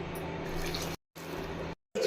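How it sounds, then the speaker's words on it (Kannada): Water is poured from a tap into a cooking pot for lentil and vegetable upsaaru, a steady close splashing stream that cuts off twice briefly before resuming. "ನಾಲ್ಕು ಕಪ್ಪಾಗುವಷ್ಟು ನೀರು ಸೇರಿಸ್ತಾ ಇದ್ದೀನಿ"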